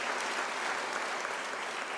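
Audience applause at an academic year closing ceremony, a steady dense wash of clapping from many hands with no break, fairly distant and even in level.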